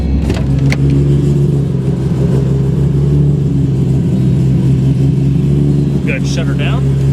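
A 1997 Nissan Skyline GT-R V-Spec R33 engine idles steadily with a deep, constant drone, loud and close, with a few light clicks and brief higher tones near the end.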